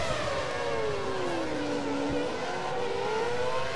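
A Lotus Formula 1 race car engine screams at full revs in the F1 2013 racing game at the China circuit, a loud, continuous high-pitched whine whose pitch glides down and back up as it holds maximum power.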